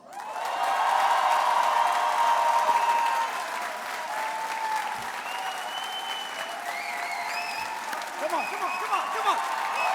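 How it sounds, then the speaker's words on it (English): An audience at a university commencement ceremony applauds steadily for about ten seconds, loudest at first and then settling into an even clatter of clapping, with faint voices and a few cheers mixed in. "let's buzz Mr. Aldrin right back to the moon with a thunder of applause"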